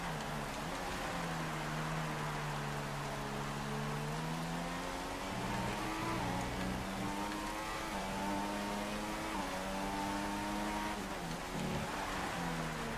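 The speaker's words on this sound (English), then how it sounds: "And here we are, just wheel spin for days." Revving race car engine with wheel spin at a wet standing start in the F1 2016 racing game, Spanish Grand Prix in rain, steady harmonic whine rising and falling in pitch over continuous rain hiss.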